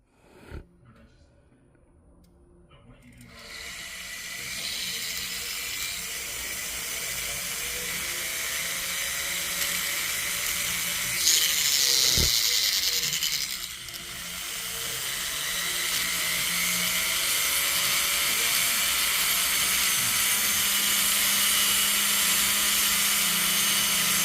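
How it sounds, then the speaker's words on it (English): A rotary tool spins a silicone wheel against a repaired jewelry chain, blending the fix; a steady, close high-pitched whine runs almost continuously after a quiet start, with slight shifts in pitch as the wheel bears down. "we're just switching to a silicone wheel"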